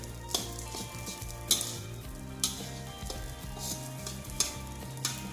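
Fried rice is stirred in a hot, sizzling pan, a steady frying hiss broken by regular scraping strokes about once a second, close and clear with no speech.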